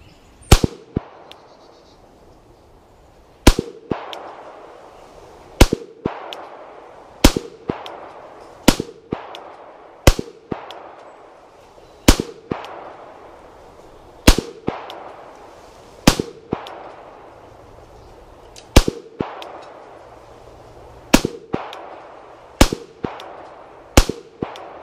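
A Beretta 92 pistol emptying a whole magazine at an outdoor range, about a dozen loud, sharp gunshots spaced unevenly at roughly one- to two-second intervals, each followed by a short ringing decay.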